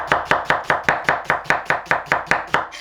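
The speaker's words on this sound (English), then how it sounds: "Onion, you're gonna want to chop it real fine." Onion being chopped finely with a knife on a board, a fast, steady run of about a dozen crisp, evenly spaced knife strikes, close and clear with no talk.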